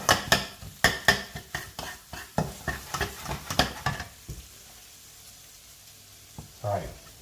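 Chili flakes frying in a hot pan, with a run of loud sharp clatters and scrapes from stirring over the first four seconds, then a soft sizzle that is nearly quiet, and a brief stir near the end.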